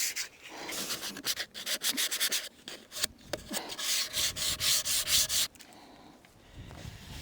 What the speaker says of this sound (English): It's much quicker to do the finer sandpaper, so I'll just go all over with that.